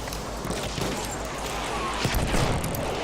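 A machine gun fires in Battlefield 1 from a player lying prone, heard as a faint, distant rattle of gunfire under a wash of battlefield noise with no clear single shots.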